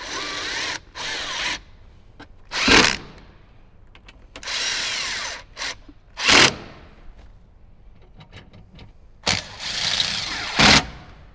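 A power drill drives speaker fasteners on a Jeep Wrangler JK during an Alpine speaker install. There are several short whirring bursts with quiet gaps between them, and small clicks and handling noises fill the pauses.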